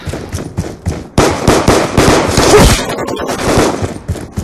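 Pistol gunfire in a game: a few separate sharp shots at first, then a dense rapid burst of loud overlapping cracks that trails off into a ringing tail, with no one speaking.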